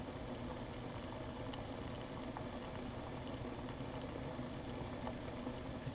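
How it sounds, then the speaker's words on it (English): Water at a steady rolling boil in a chemistry lab, a continuous bubbling hiss that stays even and close throughout, with no one talking. "this water has been boiling for about 10 minutes now"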